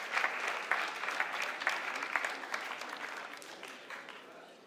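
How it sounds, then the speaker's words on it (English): Applause from an audience at a congress, a moderate, steady patter of many hands clapping that gradually thins out toward the end, heard at some distance. "May I ask you for applause,"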